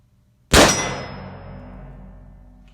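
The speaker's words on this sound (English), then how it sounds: "Let's shoot some more steel." A single sharp metallic clang rings out as a Colt Paterson replica revolver ball strikes a steel target, loud and close, with a long fading ring afterward and no voices.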